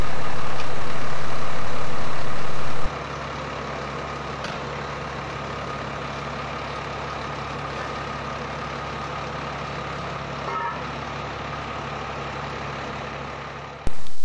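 A fire engine pumping apparatus idles with its pump engaged, a loud, steady low diesel rumble and drone that starts abruptly after a quiet opening and runs on evenly before cutting off.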